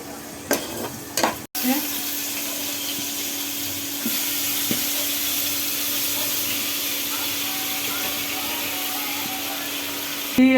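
Meat sizzles in hot oil in a pan that had just been used for cooking greens. A few clattering knocks come first, then a steady, loud frying hiss carries on to the end.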